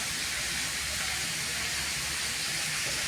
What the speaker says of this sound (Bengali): আর ভালো করে ভেজে নেব এখানে